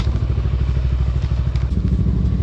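Motorcycle ridden on a long road trip from Samut Prakan to Chiang Mai, its engine putting loudly and steadily close to the microphone with rhythmic low pulses and some rattle.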